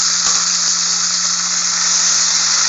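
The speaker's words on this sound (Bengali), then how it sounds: "পেঁয়াজটাকে ভালো করে ভেজে নিয়ে তারপর কচুর বইটাকে দিয়ে দিলাম" Taro seeds (kochur boi) frying in a pan with onions give a steady, loud, continuous sizzle with a hissing wash throughout, close up and with no voices.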